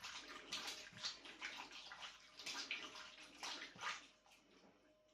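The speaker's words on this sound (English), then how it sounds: "Let me just give my hands a rinse." Tap water runs in a home kitchen while hands are rinsed after massaging beef for a stir-fry, a quiet, uneven splashing stream with soft surges and gurgles, fading near the end.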